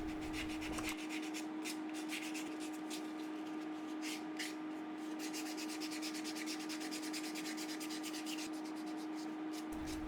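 Carved wooden wigeon decoy being sanded by hand, quiet repeated rubbing strokes in a steady back-and-forth rhythm over a faint constant hum.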